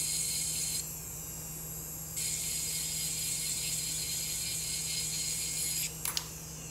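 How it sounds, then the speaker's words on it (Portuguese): A rotary drill bit lightly abrades the glaze off a sculpted ceramic piece to dull its shine, giving a steady, close high-pitched whine that shifts in level partway through and ends with a brief scraping burst. "Esse desgaste com essa broca, vocês podem observar que é de uma forma bem sutil. É só para tirar o brilho."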